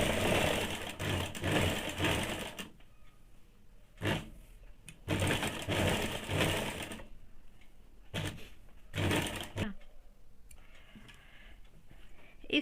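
A sewing machine stitches a high-neck blouse sleeve in several separate bursts of rapid whirring, each stopping and restarting, close and fairly loud with quiet pauses between.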